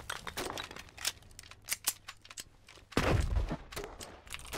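Gunfire in the war video game Foxhole: scattered sharp rifle cracks and short bursts at varying distances, then a louder, heavier blast.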